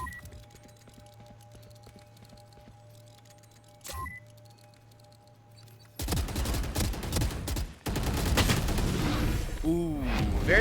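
A burst of gunfire in a competitive esports video game match, heard as dense rapid shots that suddenly grow loud and continuous, following a quieter stretch with a single sharp swoosh.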